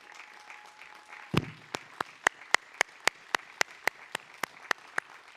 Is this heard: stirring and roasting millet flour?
no